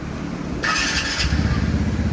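A TVS Ntorq BS6 scooter engine starts with a sudden burst of noise about halfway through, then settles into a steady, close, low idle hum.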